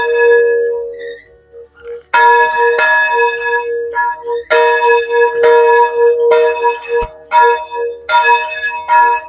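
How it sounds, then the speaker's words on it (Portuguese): Church bell of the Capela São José in Barracão, Paraná, rung with the clapper striking both sides of the bell, giving loud, ringing strokes in an irregular run of repeated clangs whose long tones overlap and linger between hits. "a gente usar o badalo do sino batendo dos dois lados"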